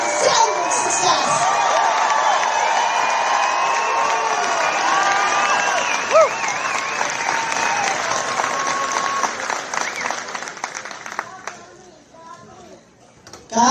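A crowd at a trucker convoy rally in Oklahoma cheering, whooping and applauding loudly with shouts over sustained clapping, tapering off toward the end as a voice returns.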